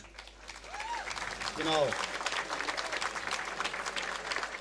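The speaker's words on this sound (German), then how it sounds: "das hat einen super Applaus verdient" An audience claps steadily at an outdoor music show in a bird park, a sustained wash of applause with a voice speaking briefly over it and a few bird calls cutting through.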